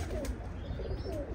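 Pigeons in a loft give low, soft cooing calls that repeat in gentle rolling phrases over a steady murmur of other birds, close and fairly quiet.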